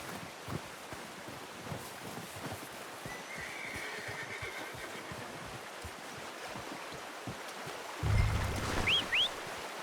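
A horse in the video game Red Dead Redemption 2 stands near flowing water, then gives a loud, close whinny and snorts near the end, with soft hoof shuffles and ambient outdoor sounds beforehand.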